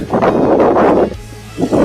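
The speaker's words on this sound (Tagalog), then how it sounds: "Lakas ng hangin." Strong wind buffets the microphone in a loud, roaring rush that drops briefly, then gusts back in.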